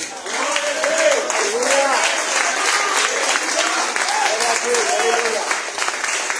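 Congregation at a church service in a recovery house stands and applauds, dense steady clapping with voices singing or calling out over it throughout.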